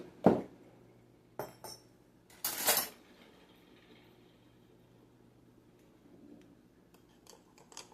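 Metal spoon clinks against a bowl while stirring sugar into yeast water for bread dough, a few sharp separate taps and scrapes with quiet gaps between them, close and fairly faint.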